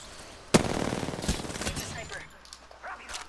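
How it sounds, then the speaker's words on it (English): A charge rifle fires in a video game, a sharp loud shot followed by a rattling burst of gunfire that fades into scattered quieter game sounds. "It's a fucking charge rifle."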